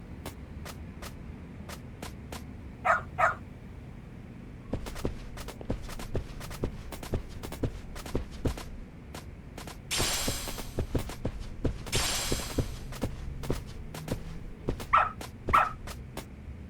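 A dog in the video game Lost Judgment barks in a few short bursts, near the start and again near the end, over steady footsteps and game ambience.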